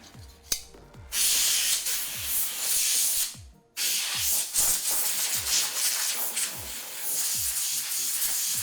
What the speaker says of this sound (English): And actually I'm running out of canned air.